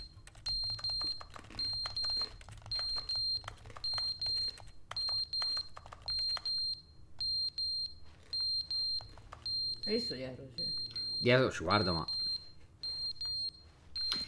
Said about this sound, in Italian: Dopo tot anni gli allarmi antincendio smettono di funzionare e suonano sempre.